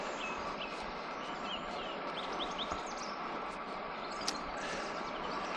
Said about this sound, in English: those birds are loud. They are going for it.